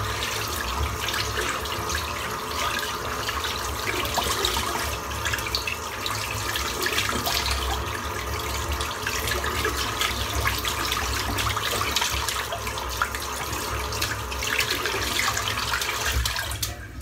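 A shaving brush is rinsed under a running tap, a steady close splash of water that continues without pause and with no talking.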